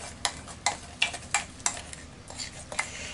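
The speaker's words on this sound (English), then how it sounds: "So, I'm just going to kind of give this a stir." A spoon stirs food in a frying pan, giving about eight crisp scraping clicks at a loose, uneven rhythm, close and moderately loud over a faint background hiss.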